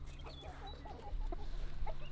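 A hen clucks quietly in a backyard flock of egg-laying chickens, giving soft, scattered clucks at close range over a low background hum.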